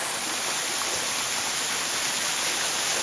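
A small waterfall in the Big South Fork backcountry pours steadily, a close, loud, even rush of falling water with no pauses and no voices.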